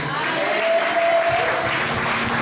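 A church congregation applauds and cheers the King of kings in a dense, continuous wave of clapping, with a voice faintly audible underneath.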